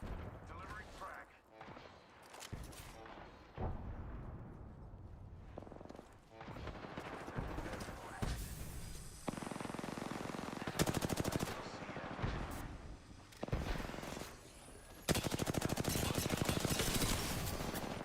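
R301 rifle fire in Apex Legends, dense rapid automatic bursts with sharp cracks, loud and repeated over continuous game noise, with a voice talking at times.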